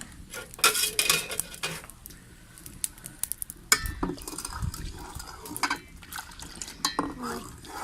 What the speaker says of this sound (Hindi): ऐसे थोड़ा थोड़ा चम्मच हिलाते रहें